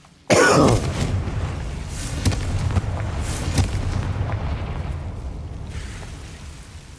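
The Confringo fire spell in the game Hogwarts Legacy sets off a sudden loud blast near the start, then a rumbling, crackling roar that slowly fades.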